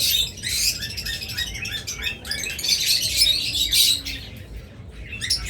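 A male and female pair of caged pet birds give bright, rapid chirps and tweets, calling in quick overlapping bursts close by with brief gaps, and no one speaks.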